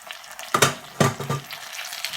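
Potatoes tipped into a pan of frying onions and stirred, giving two sharp scraping bursts followed by a steady close sizzle.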